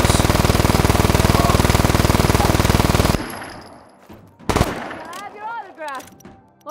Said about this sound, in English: here is my LMG